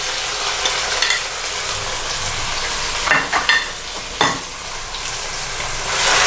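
Boneless chicken strips, 750 grams, sizzle steadily in a hot pan with a few sharp crackles and stirring scrapes, close and fairly loud, no voices.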